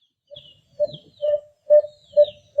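A voice imitates a spotted dove's soft, hooting coo, several low rounded notes repeated in a slow rhythm, close and fairly clear.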